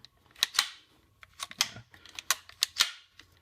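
The bolt of a Ruger 10/22 rifle fitted with a DIY auto bolt release is worked by hand during a function check, making a series of sharp, close metallic clicks and snaps in an otherwise quiet room.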